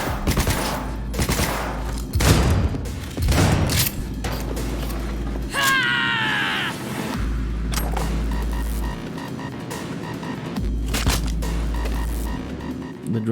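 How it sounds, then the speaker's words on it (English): Gunfire and mechanical sounds in the video game Cyberpunk 2077, several bursts of shots and heavy thuds over a low throbbing hum, with a brief whirring tonal effect midway. "The gun have really decent audio quality."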